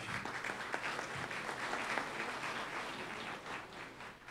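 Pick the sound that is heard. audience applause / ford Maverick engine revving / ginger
audience applause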